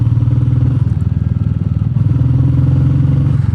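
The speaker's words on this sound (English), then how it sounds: "Definitely the engine noise isn't that loud as before." A Meteor 350 motorcycle engine fitted with a FuelX Pro idling close by with a steady, throbbing putter and light mechanical clatter, continuous throughout.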